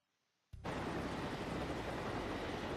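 Red Wings airships flying in Final Fantasy 4 start abruptly after half a second of near silence, becoming a dense, loud, steady engine roar that holds to the end.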